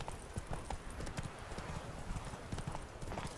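Roach the horse's hooves clip-clop steadily in The Witcher 3: Wild Hunt on PS4, a brisk, continuous trot of close, sharp hoof strikes over low rumbling ground.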